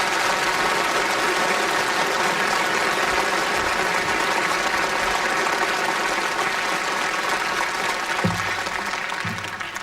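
Sustained audience applause in a television studio welcoming South Korean President Kim Dae-jung for a town-hall broadcast, a dense, even roar of many hands clapping throughout, easing slightly near the end.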